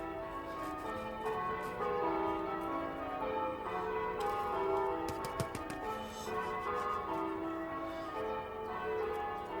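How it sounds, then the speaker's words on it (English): Church bells ring steadily in the distance throughout, a dense, continuous peal heard outdoors beside a garden greenhouse, with no talking. "Hope you can hear me above the noise of the church bells."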